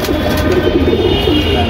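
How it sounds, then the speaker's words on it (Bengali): A pigeon coos in a low, continuous murmur, steady and moderately close, with no voices over it. "এই যে একটা কবুতর, এই একটা কবুতর আমার মূল কবুতর"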